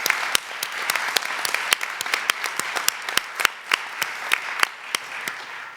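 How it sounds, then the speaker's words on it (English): A small audience applauds sonography program graduates at a 2022 college pinning ceremony. Distinct, fairly quiet claps come in a brisk, slightly irregular rhythm for several seconds. "So let's give them a round of applause."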